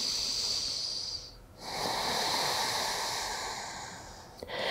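Long, airy breaths during a yoga twist stretch, one slow steady exhale, a brief pause, then another sustained breath close to the microphone with no talk.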